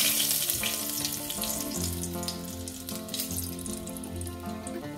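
Green chilies sizzle in heated oil for a Nepali dal fry, a steady crackling hiss running the whole time with some tonal background sound underneath and no talking.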